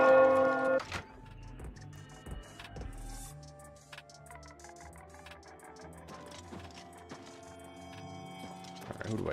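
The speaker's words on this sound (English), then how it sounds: "Those bells are so loud." Church bells ring loudly in the video game Oblivion Remastered, a dense, clanging peal that opens strong and keeps sounding, with strikes trailing on under game music and ambience.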